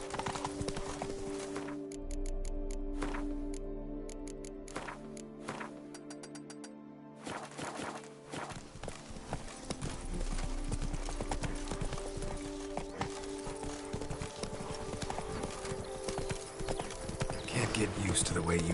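Roach the horse trotting in The Witcher 3 video game: a steady, close clip-clop of hooves runs through the whole stretch, with a voice and tonal game sounds underneath.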